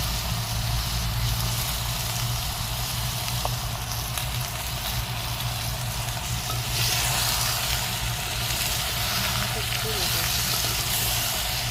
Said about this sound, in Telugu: సౌండ్ భలే ఉంది కదా, వేగిన సౌండ్.